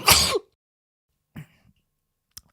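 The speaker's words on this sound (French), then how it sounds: "je vais éternuer." A single loud, sharp sneeze bursts out close by, then fades into silence, broken only by a couple of faint small noises afterward.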